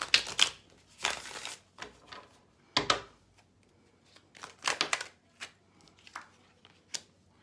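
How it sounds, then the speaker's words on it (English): Shuffling a Deviant Moon Tarot card deck: sharp riffling bursts and soft slides of cards in irregular clusters, close and crisp against near silence. "Let me shuffle this Deviant Moon Tarot and see if I can figure out a little bit more."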